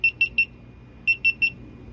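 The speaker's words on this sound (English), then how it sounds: "it will start and stop 3 or 4 times, beep, beep, beep, before finally coming online" A GoPro Hero3+ camera beeps during a firmware update with two bursts of three short, bright, evenly spaced beeps separated by a brief pause, close and clear over a low background hum.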